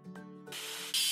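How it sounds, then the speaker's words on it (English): Grinding a weld seam on a crane in a train-building video game: a steady abrasive rasp follows a short hum and grows into a loud, harsh hiss toward the end, with no talk. "Let's grind the welding seam."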